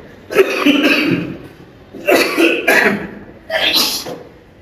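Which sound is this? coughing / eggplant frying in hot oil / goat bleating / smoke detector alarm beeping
coughing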